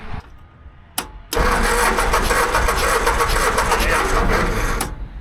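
A 1970s John Deere engine cranks over steadily on the starter during a compression test, a loud, close, rhythmic churning that runs for about four seconds after a brief click and then cuts off.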